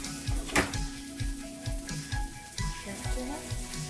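Shrimp dropping into a pan of frying vegetables sets off a steady close sizzle, with a sharp crackling burst near the start and soft stirring scrapes at a regular rhythm.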